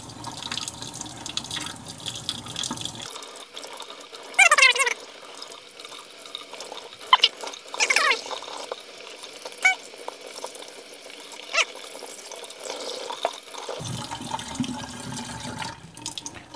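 A sink tap runs steadily as hands are rinsed under it, close water splashing with brief squeaks and louder bursts as the hands move through the stream, the flow stopping near the end.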